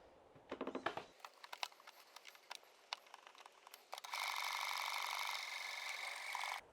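Domestic sewing machine stitching a garment buttonhole: a few sharp mechanical clicks and taps as the stitch is set, then a steady, fairly close motor whir running for a couple of seconds before stopping.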